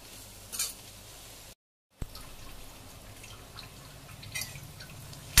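Cabbage fries in a pan with salt and coriander powder, giving a soft, steady sizzle with a few louder crackles and one abrupt silent gap partway through.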